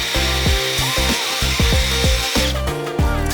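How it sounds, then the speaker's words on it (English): A power drill drills out rivets on a Porsche 997 GT3 car part, with repeated loud bursts of whining motor and grinding, close up, and no talking. "Then we have a couple of rivets that we need to drill out on this piece."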